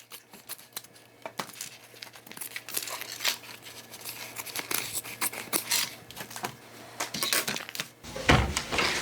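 Scissors trimming excess fabric from a bag's welt zipper pocket, a close run of crisp snips and rustling cloth in an uneven rhythm, with a louder crinkling handling noise at the end.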